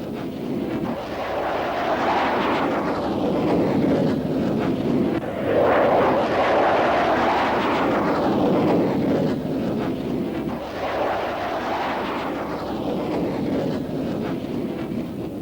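An F/A-18 Hornet jet aircraft flies with a loud, continuous roar. The sound swells and fades in repeated waves, like several passes, with no talk over it.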